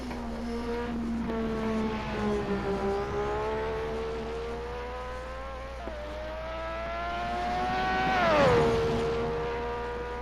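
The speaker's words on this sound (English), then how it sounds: "I'm just going to let you hear this wonderful engine." Historic Formula 1 race car engine, a sustained high-pitched roar that rises and falls through the revs, with one sharp climb near the end, loud and close with no voices.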